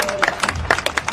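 Audience applause at a fiery Hindi political rally speech, a short burst of scattered, close claps with uneven rhythm.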